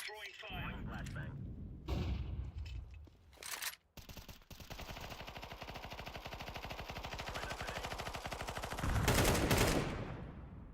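A flashbang and an incendiary grenade go off during a Counter-Strike 2 match amid rapid bursts of gunfire. Dense rattling shots run throughout, with a loud bright blast near the end.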